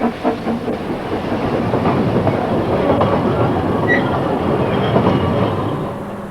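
A Festiniog Railway narrow gauge train runs along the slate line toward Porthmadog in Wales, giving a steady, close rumble with clattering wheels on the track and faint squeals, with no voices.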